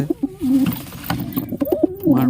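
A male Tiger pigeon coos repeatedly in short throaty bursts at close range, mixed with scuffling and wing flutters as it fights and attacks a female.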